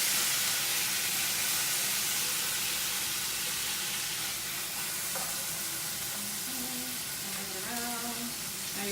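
Salmon sears in a hot pan with a steady, loud sizzle and spitting fry, close up and continuous, with faint hums and tones in the background and no talking.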